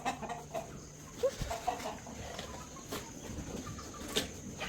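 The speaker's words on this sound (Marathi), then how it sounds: "कोंबड्या लगेच सुरायला लागला" Farmyard chickens cluck nearby in short, scattered calls over a quiet rural background during a village bullock festival.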